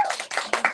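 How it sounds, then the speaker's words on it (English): A short burst of audience clapping at an awards ceremony, with uneven bunched claps over less than a second, fairly close and without talk. "Another round of applause,"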